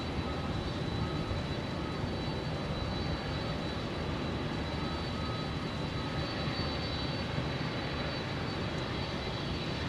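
An MD-11 freighter jet on the runway at Louisville gives off a constant broad engine roar with a faint whine, steady and moderately distant, with no voices.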